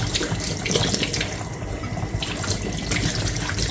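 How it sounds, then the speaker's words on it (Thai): Mushrooms being washed under a running kitchen tap, with a steady splashing stream of water into the sink that stays fairly loud and continuous throughout, no voices. "ทุกคนล้างเห็ดค่ะ"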